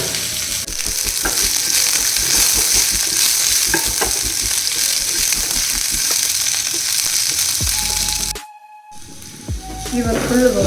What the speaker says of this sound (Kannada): ಇದಕ್ಕೊಂದು ಚೆನ್ನಾಗಿ ರೋಸ್ಟ್ ಮಾಡ್ಕೊಳ್ಳಿ.